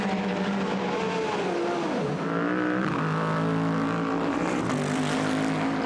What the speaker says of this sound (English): So Cameron comes out of Parabolica.